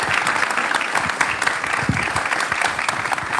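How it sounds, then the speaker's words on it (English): Steady, close applause from an audience at a nuclear energy town hall event, brisk overlapping clapping for a few seconds with a murmur of voices beneath. "please give them a big round of applause"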